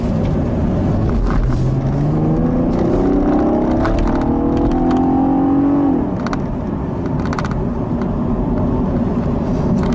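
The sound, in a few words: 2015 Cadillac ATS Coupe engine throaty growl while accelerating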